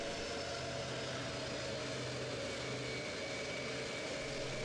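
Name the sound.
large cargo freighter aircraft taxiing toward runway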